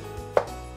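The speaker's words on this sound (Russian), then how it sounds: "Я разрезаю его вдоль, вот такими крупными кусками." A knife cuts through a cucumber lengthwise into large pieces for pickling, one sharp single chop on a board in a quiet kitchen.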